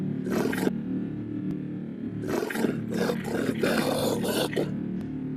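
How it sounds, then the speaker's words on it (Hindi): Deep roaring of Lord Narasimha, half man and half lion, emerging from a broken pillar: loud, rough bursts of lion-like roaring, one short and then a longer sustained roar filling most of the clip. "एक प्रचंड गर्जना गूंजी और उसी क्षण प्रकट हुए भगवान नरसिंह"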